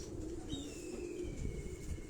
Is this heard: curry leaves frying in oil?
no